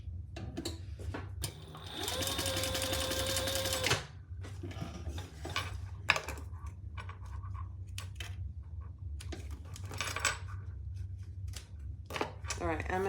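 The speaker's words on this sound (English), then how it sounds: "All right, I'm gonna do one more row of stitching." Sewing machine stitching a row through heavy webbing, a steady mechanical whir running for about two seconds and then stopping, followed by fabric handling, rustling and scattered clicks.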